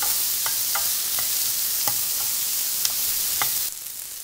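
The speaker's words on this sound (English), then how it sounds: "Keep stirring and frying it up. You want to start to brown these onions." Steady hiss of onions sizzling and browning in a hot pan for Pytt i Panna, with repeated scraping stirs of a utensil breaking through every half second or so, before the sizzle briefly dips.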